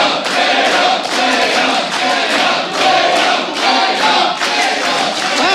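Chants from an arena crowd at a StarCraft 2 WCS Premier League match pulse in regular rhythmic bursts over a constant roar, loud and sustained throughout.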